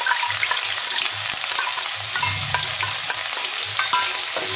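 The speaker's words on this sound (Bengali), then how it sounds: "এবার আমি পেঁয়াজ কুচিটা দিয়ে দেবো।" Chopped onion fries in hot oil alongside toasted cumin, giving a continuous bright sizzle with soft stirring clicks throughout, close and alone.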